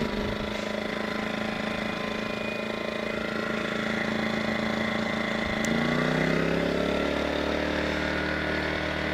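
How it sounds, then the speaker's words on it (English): A gasoline generator rumbles at a steady idle just after being pull-started, a moderate continuous engine drone with a slight shift in pitch partway through. "Probably one of the quietest generators you'll ever own"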